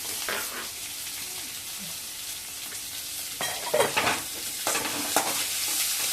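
Thinly sliced onions for ragi semiya upma sizzle steadily in a frying pan, with repeated scraping stirs breaking through the constant crackle at close range.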